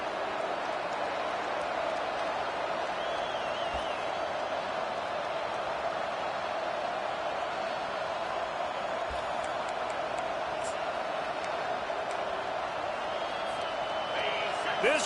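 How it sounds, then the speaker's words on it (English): Broad, steady wash of football stadium crowd noise early in a game, a constant dense roar holding at the same level throughout with faint scattered shouts on top. "This crowd bringing the energy and noise early."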